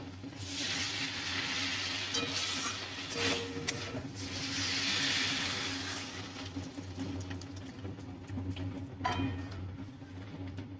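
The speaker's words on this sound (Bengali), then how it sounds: "এর মধ্যে এবার আমি জল দিয়ে দেব" Water is poured into a pan of frying rohu fish curry with potatoes and lentil dumplings, giving a faint hiss and sizzle that swells and fades, with no talk.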